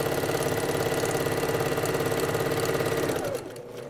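A sewing machine runs steadily, stitching a seam along a marked line on fabric, its fast mechanical whir loud and close for over three seconds before it slows and stops near the end.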